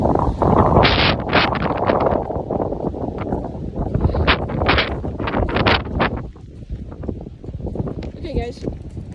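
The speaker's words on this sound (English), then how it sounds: "Yes, it's very windy." Strong wind buffets the microphone outdoors, a loud continuous roar with gusty rushes, and a person talks through it.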